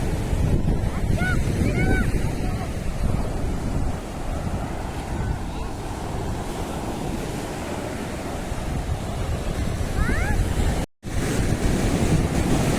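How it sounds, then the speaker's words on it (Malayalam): Ocean waves break and wash far up the sand at Ezara beach in Kannur, Kerala, a dense steady roar of surf blended with heavy wind buffeting the microphone, one brief dropout near the end. "തിരമാല കൂടി നല്ലോണം കണ്ടോ, ഇങ്ങോട്ടോളം അടിച്ച് കയറുന്നുണ്ട് തിരമാല"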